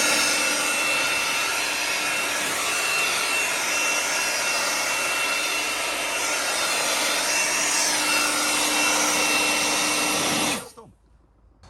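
A DeWalt DCE100N cordless blower on its highest setting roars loudly and steadily with a constant whine, then winds down abruptly at the end.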